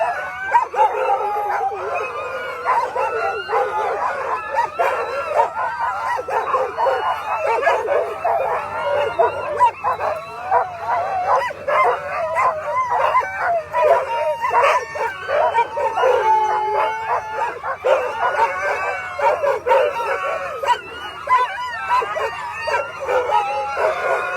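A long string of sled dogs at the start of the Willow 300 mid-distance sled dog race, barking, yipping and howling continuously and loudly as a dense, excited chorus throughout, with faint talk in the background.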